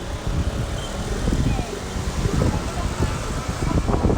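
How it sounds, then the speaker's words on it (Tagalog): Strong wind roars and thumps against the microphone outdoors while someone talks through the gusts. "Wow, lakas ng hangin."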